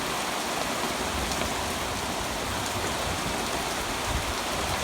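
Steady rain patters on a roof, a dense, even hiss of drops with faint higher pings scattered through it.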